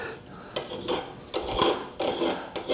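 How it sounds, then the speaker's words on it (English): A metal file rasps along the edge of a woodworking scraper to tune it, several firm back-and-forth strokes close up with short pauses between them. "So I'm going to get the file on there and just,"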